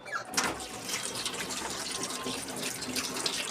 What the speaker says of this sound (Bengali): এই মরিচটা আমি ধুয়ে নিচ্ছি